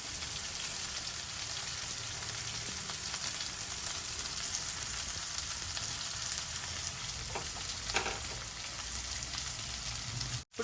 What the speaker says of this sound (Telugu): కలిపేసుకొని ఉల్లిపాయల్ని బాగా వేగనిద్దామన్నమాట